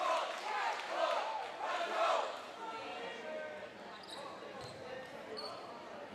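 Spectators at a boys high school volleyball match between Milford and BC High roar and cheer in a loud gym after a point, with shouts and squeaky shoes under the crowd noise.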